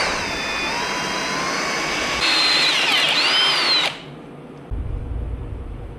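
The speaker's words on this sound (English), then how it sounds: "I'm just gonna drill that thing out, re-tap the hole" A power drill whines steadily up close, its pitch rising and shifting as it drills out a bolt hole in an old Willys Jeep engine, then cuts off abruptly before a brief lower motor hum.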